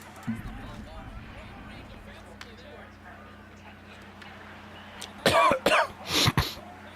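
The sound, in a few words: cough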